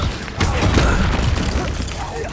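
A loud booming blast from the Confringo spell rings out in Hogwarts Legacy gameplay, with a rumbling burst and fading debris, while a voice is heard over it.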